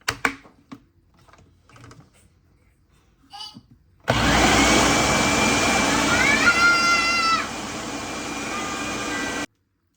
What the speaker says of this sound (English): And grind it again.